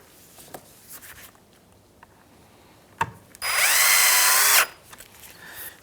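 A power drill whirs for about a second driving a screw into the plastic front bumper of a 2003-2011 Honda Element, close and fairly loud, with faint clicks and handling noises before and after.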